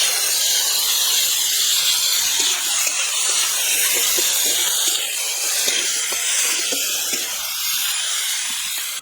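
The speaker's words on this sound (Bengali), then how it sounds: "এবার আমি মাংস কড়াইতে দিয়ে দেবো" Marinated country chicken pieces, already mixed with onion, hit hot oil tempered with cumin, garam masala and bay leaf in a wok, giving a loud, steady hiss and sizzle that carries on without a break.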